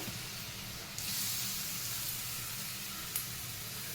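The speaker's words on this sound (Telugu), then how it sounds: "ఇప్పుడు ఇది బొప్పాస్కాయ వేయించుకోవాలి." Papaya pieces fry in ghee for a papaya halwa, giving a steady close sizzle and hiss, with a brighter surge after about a second and a brief spatter near the end.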